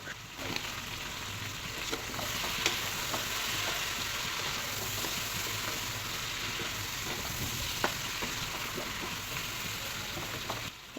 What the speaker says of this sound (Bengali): তারপর আবারও ভালো করে মিক্সড করে ভেজে নেব।